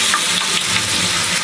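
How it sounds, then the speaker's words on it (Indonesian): Thin slices of tempeh coated in thick, crispy batter frying in hot oil, giving a loud, steady, close crackling sizzle throughout. "goreng tempe ala emak ya teman-teman"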